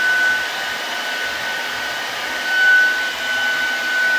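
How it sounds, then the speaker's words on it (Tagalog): Steady hair dryer blowing continuously as a stylist dries a client's curly hair at a salon before flat-ironing, close and constant with a faint whine and a slight swell in loudness partway through. "Blower pa lang po yan, di ko pa po na-plancha. Pinatuyo ko lang po itong kanyang buhok guys."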